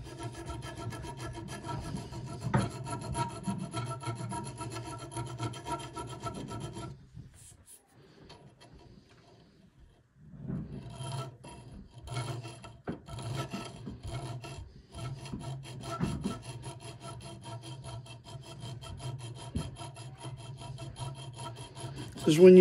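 Hand file rasping over a workpiece in repeated back-and-forth strokes, close and fairly quiet, with a brief pause partway through before the filing resumes.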